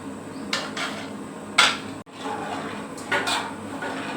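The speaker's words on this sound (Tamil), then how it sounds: "இப்போ இந்த மாவை கரைச்சி வச்சுருந்த மாவை ஊற்றி கிளறிக்கலாம்." Flour batter is poured into a pot of boiling water seasoned with salt and cumin, then stirred, giving soft scraping and a few faint clinks of a utensil against the pot in a quiet kitchen.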